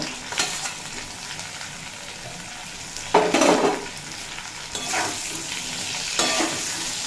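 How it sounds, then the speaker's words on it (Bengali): Fried bottle gourd being stirred in a pan for a vegetarian lau dish, a steady sizzle broken by several scraping stirs, the loudest around the middle, close and without speech. "লাউ দিয়েও এক মিনিট মতো নাড়াচাড়া করে নিয়েছি"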